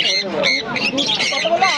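Exotic birds at a West Bengal pet bird market squawk and chatter continuously, loud and close, with shrill overlapping calls and a voice talking among them.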